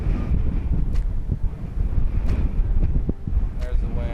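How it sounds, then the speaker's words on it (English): Steady outdoor wind rumbling and buffeting against the microphone around a parked 1966 Ford Galaxie 500 Fastback, a continuous low roar with occasional gusts and faint background noise throughout. "There's the wind."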